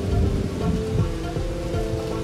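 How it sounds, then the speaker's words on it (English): Steady rain pours in the video game Bugsnax at Boiling Bay, a dense continuous hiss with low rumbling underneath, no talking over it. "Oh, it's raining right now."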